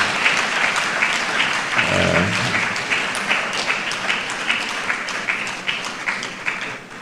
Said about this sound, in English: So a loud round of applause.